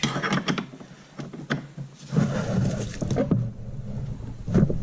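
Close, intermittent clicking and metallic ratcheting as a wrench loosens a bolt on a 2014-2017 Honda Rubicon ATV front wheel, short bursts with pauses and some handling clatter, no talk.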